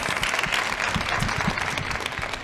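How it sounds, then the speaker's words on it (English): Audience applause for a business panel at a women's entrepreneurship event, dense and continuous clapping from a crowd, fairly loud and even throughout. "Can you round of applause for this?"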